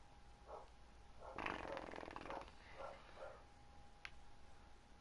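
A dog barks in the background of a room while someone plays Minecraft; a few muffled, fairly distant barks come in short bursts, with a louder cluster near the middle.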